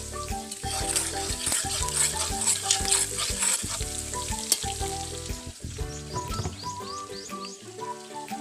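Onions sizzle and crackle steadily in a hot pan alongside chicken, a dense continuous frying hiss with occasional stirring scrapes and spatters, close and fairly loud.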